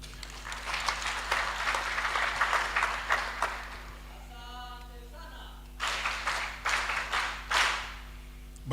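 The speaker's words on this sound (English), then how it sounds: "I think you can make the clap better." Audience applause at a police passing-out ceremony for promoted prison officers, a steady wash of many hands clapping that fades briefly, then rises again in renewed bursts.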